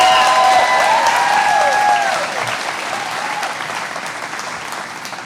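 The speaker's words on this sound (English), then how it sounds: "he deserves a round of applause" Applause fills a retirement ceremony for an assistant sheriff, loud and sustained at first and then gradually thinning as the clapping tapers off, with faint voices under it.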